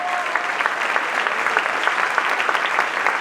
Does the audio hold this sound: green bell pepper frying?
no